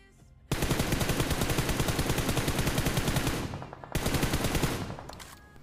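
Loud bursts of rapid automatic gunfire in a battle royale shooter, one long sustained volley followed by a shorter second burst after a brief pause.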